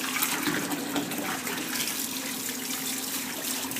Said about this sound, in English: if the water is too hot, what you're going to do is add some cold water to it.